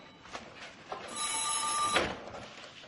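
A telephone bell rings once in a single shrill, metallic burst lasting about a second, fairly faint, after a few soft knocks.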